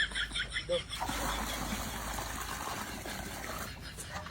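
Water poured in small amounts, a light trickling and splashing that runs for a few seconds after a brief pause at the start.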